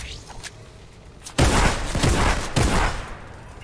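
A burst of loud, close gunfire from the video game Fortnite, rapid overlapping shots erupting after a quieter stretch and continuing in a dense, booming volley to the end.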